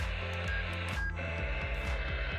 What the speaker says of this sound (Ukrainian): FT8, бачите, слабенько дуже приймає, зазвичай воно краще